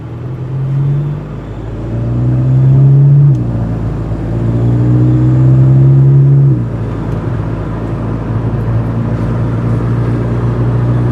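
A fully warmed-up Volkswagen GTI with an aftermarket exhaust, running steadily close by with a deep droning note and two brief rises in revs, no talking over it.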